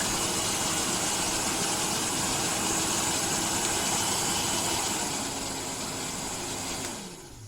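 Steady whirring hum of a Gamma Piu 3300 hair dryer motor running continuously on its hottest setting, loud and close, with the pitch sliding down as it powers off at the end.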